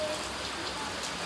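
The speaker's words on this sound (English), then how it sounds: "It's finally raining. After so many days." Steady rain falls in the UAE, a dense even hiss of drops hitting surfaces nearby, loud and continuous with no pauses.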